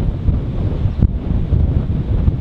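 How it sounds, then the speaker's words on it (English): Strong wind blows across a beach in the Bicol region of the Philippines, buffeting the microphone with a loud, steady low roar and a brief gust near the middle. "Oh, a windy day"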